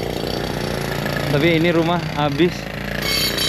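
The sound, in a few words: drilling at nearby post-fire house site in Los Angeles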